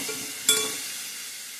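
Green beans stir-fried in oil in a home kitchen, giving a steady faint sizzle with a brief louder clatter of stirring partway through.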